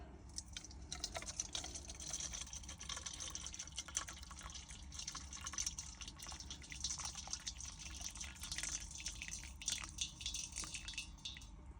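Hot water pours and trickles into a movable wash bowl inside a camper van, a soft, uneven splashing stream with small drips, fairly quiet and close, with no one speaking.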